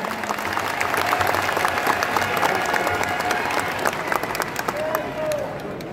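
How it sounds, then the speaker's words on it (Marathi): A crowd applauds steadily, a dense wash of clapping that carries on for the whole stretch, with faint voices mixed in. "मला असं वाटतं की याच्यासाठी जरा अधिक टाळ्या वाजल्या पाहिजेत।"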